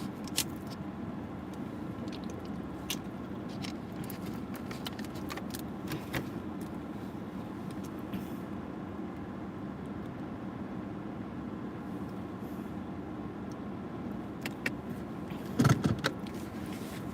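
Cars keep passing on a road near Gettysburg, Pennsylvania, heard as a steady, continuous traffic rumble from inside a waiting vehicle, with a brief louder swell close by near the end.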